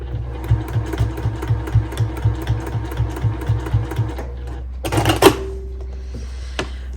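A Juki sewing machine stitches quilt binding in a steady, rapid run of mechanical needle strokes, close and alone, then stops, followed by a brief clatter and a short hum.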